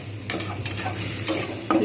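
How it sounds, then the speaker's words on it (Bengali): Onions frying in a pan for an omelette curry, a steady soft sizzle with a few scraping stirs of the spatula, close by and alone. "আর একটু ভাজবো পেঁয়াজটা"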